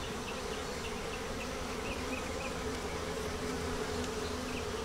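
Honey bees buzz steadily throughout an open hive during inspection of a brood-heavy frame, a dense, close, continuous hum with no talking.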